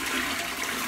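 A brief, loud rush of water from a toilet flush, heard close up.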